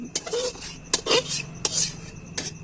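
Sugar is tipped into pasta in a pan while cooking, with a few sharp clinks of a utensil against the pan followed by brief scraping and stirring rattles, close and intermittent.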